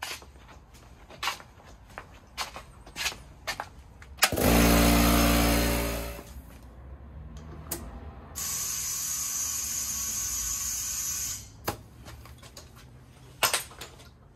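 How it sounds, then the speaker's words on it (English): An air compressor runs to inflate a tire during a DIY tire repair: a loud, harsh burst of motor and hissing air for about two seconds, then a long steady airy hiss, framed by scattered clicks and handling knocks. "kick the air compressor on"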